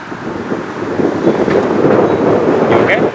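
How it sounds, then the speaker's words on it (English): Steady wind gusts buffet the microphone with a low, rumbling roar that swells slightly over a few seconds. "It is windy."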